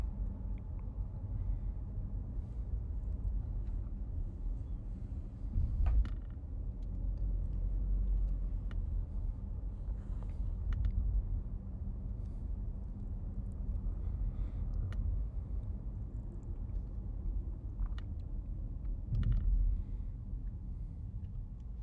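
A car drives slowly through the grounds of the Orange Lake Resort, a steady low engine and road rumble from inside the vehicle with faint clicks and bumps along the way.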